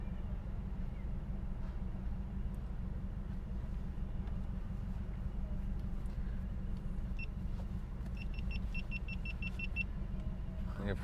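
A car cruising down the Las Vegas Strip at night, steady low road and engine rumble heard from inside, with a few faint electronic beeps toward the end.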